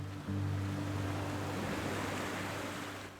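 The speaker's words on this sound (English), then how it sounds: "I then wash off the body wash" A shower rinses body wash off the skin, a steady close rush of spraying water that starts abruptly and continues evenly over a low hum.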